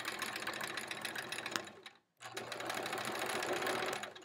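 A sewing machine free-motion quilts a quilt-as-you-go block for a Splendid Sampler 2 quilt, running in a fast, steady whirring stitch close by, with one brief stop near the middle.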